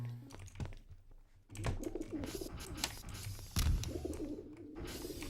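Pigeon cooing inside the Dark RP video game, soft repeated coos mixed with scattered clicks and game noise, fairly quiet throughout.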